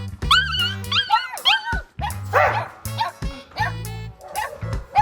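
A dog yips, whimpers and barks in quick, high whining bursts, close and fairly loud, repeating throughout with short pauses.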